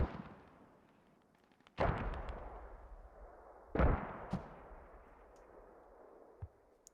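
Mortar rounds firing and landing in the video game Squad, two heavy booming blasts with long rumbling decays and a few lighter distant pops between, no talk.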